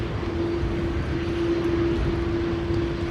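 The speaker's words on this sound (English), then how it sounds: "Embraer 190 to Humberside in the background" Embraer 190 airliner bound for Humberside at Amsterdam Schiphol Airport in stormy weather, a steady low engine drone with a sustained hum, heard in the distance behind windy noise.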